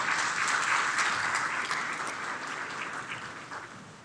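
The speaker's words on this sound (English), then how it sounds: "Please give them all a round of applause." An indoor audience at a town hall meeting applauds steadily, a dense wash of many hands clapping that tapers off slightly toward the end.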